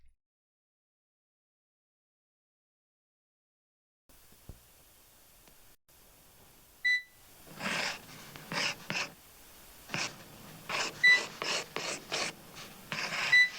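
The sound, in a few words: scratchy noise of drawing a bear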